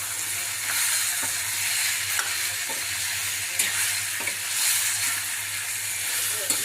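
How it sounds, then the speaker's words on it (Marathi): Chicken stirred with chilli masala in a pan, a close bright sizzle with repeated scraping strokes of a spoon over a low steady hum, no talk. "छान आपल्याला हलवून घ्यायचे चांगलं, छान मसाला लागला पाहिजे सगळीकडे"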